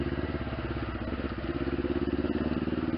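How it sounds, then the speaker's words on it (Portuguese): A motorcycle engine idles with a steady, close, rhythmic putter that holds for several seconds, with no one speaking. "O importante é o rolezinho de moto."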